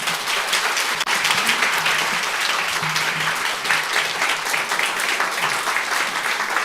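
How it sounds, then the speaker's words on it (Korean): Church congregation at a Friday service giving warm applause to welcome a missionary to the stage, dense continuous clapping sustained for nearly seven seconds, even in level, with no speech over it. "우리 김성섭 선교사님 나오실 때 우리 힘찬 환영의 박수로 선교사님"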